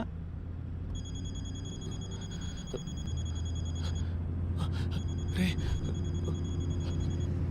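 A telephone rings in a tense police scene from a Telugu film, two bursts of trilling electronic ringing over a low steady background rumble, moderately quiet, with faint speech around it.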